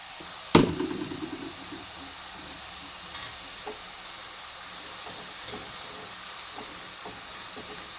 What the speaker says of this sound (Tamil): ஹை ஃப்ளேமில் வைக்காமல் மீடியமில் வச்சு நம்ம ஃப்ரை பண்ணிக்கலாம்.